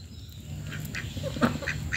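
Ducks quack eagerly at close range as they are hand-fed fish, a run of sharp, overlapping calls growing busier toward the end, with no speech.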